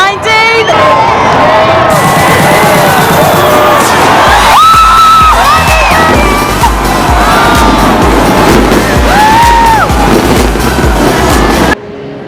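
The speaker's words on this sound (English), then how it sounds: "there's a lot of cheering going on" Crowd cheering and whooping at the midnight countdown on New Year's Eve 2019 in a city, loud and dense throughout, with scattered yells, bangs and rising whistles over a constant roar; people talk nearby.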